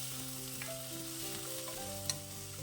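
Tomatoes and spices (coriander, pepper, cumin) for a brinjal curry frying and being stirred in a pan, giving a steady close sizzle with soft tonal hum underneath and one brief clink near the end.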